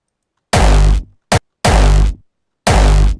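A layered hardstyle kick drum with all layers combined, played alone as three loud, heavily distorted booming hits with a short click burst between the first two, each kick decaying with a tonal tail.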